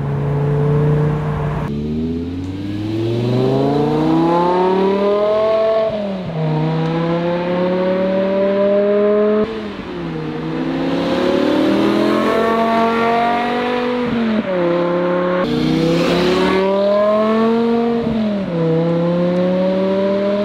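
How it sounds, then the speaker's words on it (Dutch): BMW M6 Cabriolet with the S85 V10 howling through its exhaust under hard acceleration, a loud, continuous rising wail broken by several gear shifts, close and dominant with no talk. "volslagen krankzinnige uitlaatgeluid"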